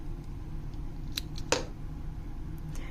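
Scissors snipping through a fabric dress strap, one crisp close cut standing out clearly after a fainter snip, over a low steady background hum.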